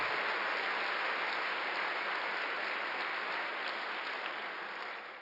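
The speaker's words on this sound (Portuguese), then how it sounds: "dê um aplauso ao Senhor Jesus Cristo" A Sunday church congregation breaks into applause for the Lord, a thick, continuous roar of many hands clapping that stays loud and even for several seconds, tapering only at the close, with no speech on top.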